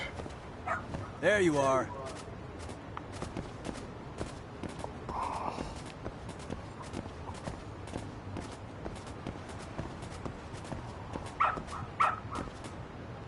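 A dog barks in the video game Lost Judgment, with short yips near the start and again toward the end. Someone speaks briefly between them.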